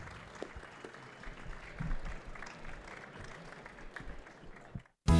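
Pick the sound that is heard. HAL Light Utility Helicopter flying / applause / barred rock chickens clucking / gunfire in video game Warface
applause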